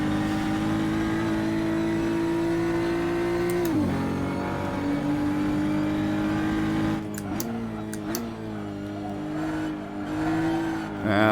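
Race car engine at Barbagallo Raceway, the driver feathering the throttle through a corner: a steady, loud onboard drone that dips and surges in pitch several times as the throttle is eased and reapplied, heard alone without talk.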